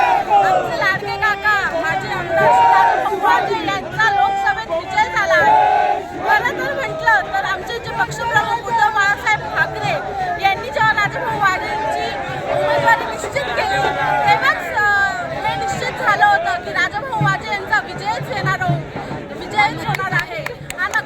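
Dense, excited crowd of supporters celebrating Shiv Sena (UBT) MP Rajabhau Waje's election win in Maharashtra, with steady cheering, chatter and overlapping voices throughout, loud and close.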